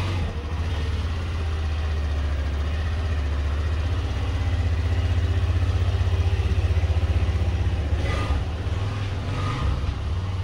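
A new motorcycle engine runs close by with a steady low rumbling drone that holds at an even level and does not fade away.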